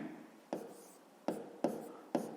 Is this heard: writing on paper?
yes